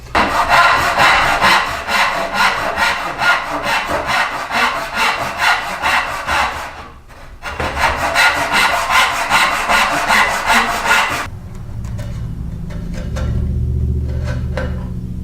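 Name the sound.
cutting wood with a handsaw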